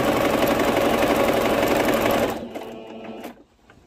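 A sewing machine stitches a pleated skirt with a loud, rapid, steady mechanical chatter, then slows and stops, leaving a few faint clicks and a quieter tail, with no talking.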